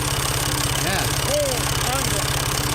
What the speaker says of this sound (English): Your tractor is nice. Ford. Good. Good tractor.